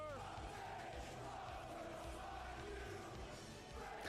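A loud, dense crowd roars and shouts continuously at a GCW wrestling event in Atlantic City, with bellowing voices blending into a steady wall of cheering throughout.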